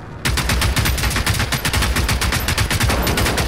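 A rapid, loud string of gunshots in Generation Zero cracks out in a dense, even rhythm almost without pause. The bursts sound more like sustained automatic fire than a single sniper rifle shot.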